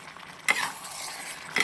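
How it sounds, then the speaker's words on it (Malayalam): Assamese pork curry stirred in a pan: a brief scrape at the start and another at the end, with a soft sizzle hissing between them, close and fairly quiet. "നിങ്ങൾ ഇളക്കി കൊടുക്കണേ, കടി പിടിക്കാതിരിക്കാൻ വേണ്ടിയാണ്."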